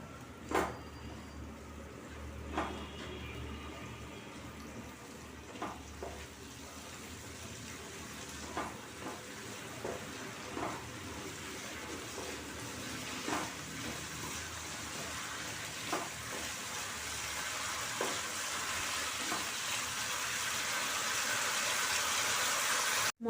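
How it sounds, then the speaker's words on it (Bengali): Paneer masala, with a pinch of sugar and a splash of water added, stir-fried in a pan: a steady hiss of sizzling swells gradually louder, broken by a dozen or so sharp spatula scrapes at irregular intervals. "আবারও আমি 1 মিনিট ভালো করে কষে নেব"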